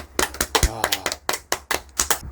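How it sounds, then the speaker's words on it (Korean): A congregation at a Korean church Sunday service applauds as encouragement: quick, rhythmic claps of moderate loudness, with a voice briefly heard among them. "우리 박수로 한번 격려해 줄까요?"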